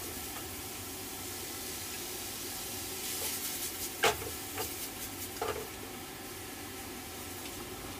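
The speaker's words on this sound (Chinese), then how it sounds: "出香后，倒入土豆丝。" Shredded potato and pork stir-fry in an oiled wok, giving a soft, steady sizzling hiss with a few sharp scrapes and clinks as the food is tossed.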